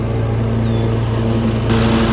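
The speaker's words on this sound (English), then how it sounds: "And there's the mean old furious lawnmower lady." A lawn mower engine drones steadily at a zoo in Fort Wayne, Indiana, a loud close idling hum that holds without break and brightens slightly near the end.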